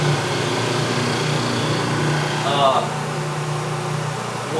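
Grinding wheel sharpening an ice skate blade, a steady, fairly loud motor whine with a constant hum running throughout, swelling briefly as the wheel meets the blade partway through.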